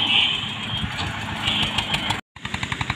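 An old Eicher tractor engine runs with a steady, rhythmic chugging close by, cutting out briefly near the end before the pulsing beat resumes.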